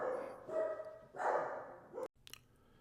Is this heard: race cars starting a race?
no